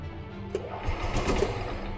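Gas Club Car DS golf cart engine running in maintenance mode while the accelerator is pressed, a close, rough putt-putt idle rising slightly midway, alone without talk.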